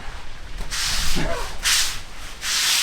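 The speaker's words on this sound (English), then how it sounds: "Scrubbing it." Hard scrubbing on a dirty part of a 1969 Mustang, three loud, close bursts of brushing that rasp in a steady rhythm.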